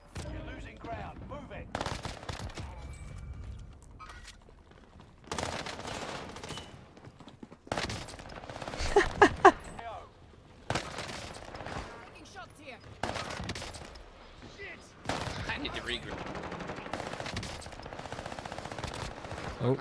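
Rapid automatic gunfire from a loadout built around the Armaguerra 43 in the Warzone video game, heard in repeated bursts across the match with a player talking between volleys.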